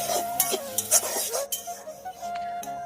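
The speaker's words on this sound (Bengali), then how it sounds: "এখন মশলাটা আমি ভালো করে নেড়েচেড়ে কষাতে থাকবো" A spice paste with green chillies and whole garlic cloves is stirred in a pot on a clay stove, giving a few soft scraping and clinking strokes over a faint sizzle, close and brief.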